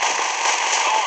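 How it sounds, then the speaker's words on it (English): In the mobile shooter Gun of Boom, a grenade explosion lets out a loud, harsh burst of crackling noise that fills the moment, sustained and dense without a break. "I'm trying to throw a grenade!"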